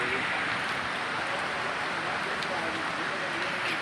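Steady rain falls on an evening in Madakasira, a dense continuous outdoor hiss with scattered drops, heard close and alone without talking.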